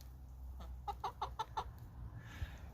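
Backyard chickens in Maine cluck in a quick run of five or six close, rhythmic calls, fairly faint against a low background hum, with no talking.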